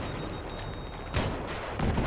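Explosions in the video game Battlefield 3: a continuous loud, noisy rumble of battle with two heavier blasts bursting through, one in the middle and another near the end.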